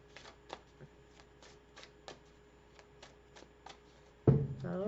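Tarot cards are shuffled by hand in soft, regularly spaced riffles and taps, close and fairly quiet, before a voice starts speaking near the end.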